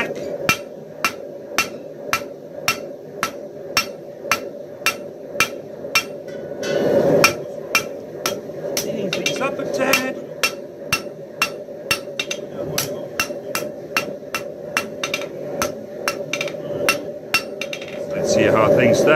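Hammer blows ring out on hot steel as a herb cutter's taper is drawn out on an anvil, a fast steady rhythm of sharp metallic strikes close by, with a short pause midway and no talking.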